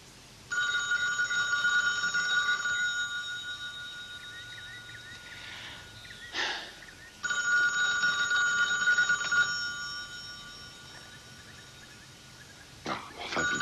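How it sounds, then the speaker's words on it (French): Telephone bell rings in a 1980 French film, sounding in two long bursts separated by a pause, with a short burst again at the end and a voice speaking in between. "Ah, enfin, Billy, il va répondre au téléphone"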